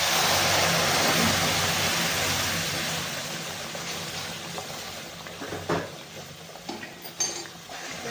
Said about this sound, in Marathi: छान पाणी सुद्धा आपलं गरम झालेलंच आहे आता आपण टाकून घेऊया पाणी याच्यामध्ये